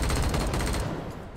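Rapid automatic gunfire during combat in the video game Wasteland 3, a loud dense burst that rattles on continuously and then tapers off near the end.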